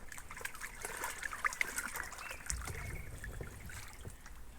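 River water trickles and splashes steadily through a pump, a continuous close liquid gurgle with small splatters throughout.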